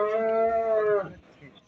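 A black calf at a livestock market gives a single drawn-out moo, close and clear, fading into faint background chatter of the market.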